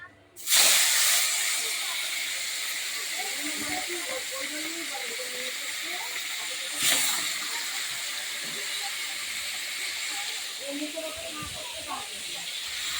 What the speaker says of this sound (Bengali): ততক্ষণ ভাজাটা হোক।